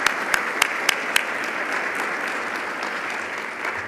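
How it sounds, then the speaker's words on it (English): Audience applause at Ohio University's State of the University address, steady dense clapping with a few sharp, close claps near the start, continuing evenly for several seconds. "That's worth an applause."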